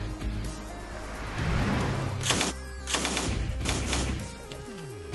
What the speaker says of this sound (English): bicycle එක වෙඩි තබමින් ඉදිරියට යන්න